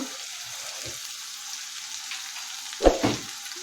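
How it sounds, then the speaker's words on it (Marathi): Ginger-garlic paste and curry leaves sautéing in oil over low heat produce a faint, steady sizzle, with one brief louder knock and stir partway through and no voices. "आता हे आपण तेलामध्ये चांगलं परतून घेऊया दोन ते तीन मिनिट कमी गॅसवरती चांगलं परतून घ्यायचं आहे"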